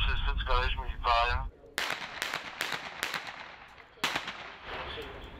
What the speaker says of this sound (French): là, on a des coups de feu, c'est ça, du collège militaire.